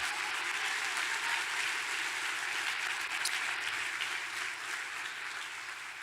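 A church congregation claps together in continuous, even applause, a broad wash of many hands held at a steady moderate level throughout with no talking over it.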